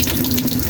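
Water from a faulty faucet with a worn cartridge and broken O-ring, heard as a steady close trickle running through the short moment with no talking.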